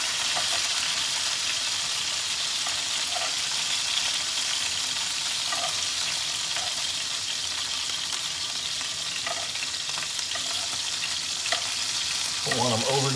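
Sea scallops searing in a hot pan in a home kitchen, a loud steady sizzle and crackle close up, with a few light clinks toward the end.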